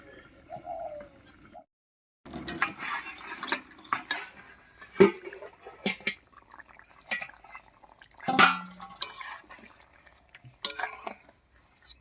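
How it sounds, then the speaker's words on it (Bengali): A lid lifted off a pot of hilsa fish curry cooked with taro, giving a few sharp metallic clanks and scrapes of cookware amid quiet gaps, with birds cooing faintly in the background. "এবারে ঢাকা খুলে নামিয়ে নিচ্ছি"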